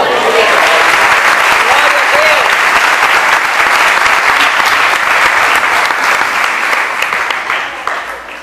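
A church congregation applauds loudly and steadily for the full stretch, a thick wash of clapping with faint vocal cries woven in, easing only slightly at the end.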